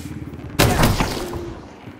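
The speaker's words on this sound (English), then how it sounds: "Oh shit, someone's shooting you." A gunshot rings out in the video game Hunt: Showdown, one loud sudden blast with a ringing tail fading over a second after a quiet lead-in, no talk.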